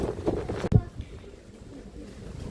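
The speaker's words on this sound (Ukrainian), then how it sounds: "Дуже вітер зривається." Gusty wind buffeting the microphone at an outdoor market with a low rumbling roar, a brief thump midway, then steadier breezy noise.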